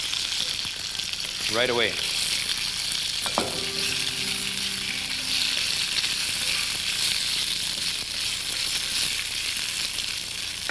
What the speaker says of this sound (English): we can begin stir-frying these